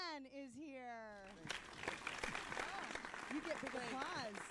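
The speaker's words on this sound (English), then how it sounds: "You get big applause" A studio audience breaks into broad applause and cheering for comedian Rodman, clapping dense and sustained under a host's voice that sings out an intro at the start.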